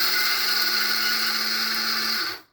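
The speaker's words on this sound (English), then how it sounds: "This is a grinder that I use for my eggshells." A small Cuisinart grinder whirs steadily as it grinds eggshells into powder, a loud continuous motor whine that holds evenly and then cuts off abruptly near the end.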